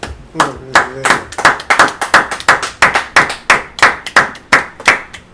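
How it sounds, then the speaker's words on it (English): Clapping from the audience at a Sabbath service, honoring a brother: about twenty sharp, evenly spaced hand claps in a steady rhythm, close and fairly loud, with no talk over them. "Clap it up for the brother."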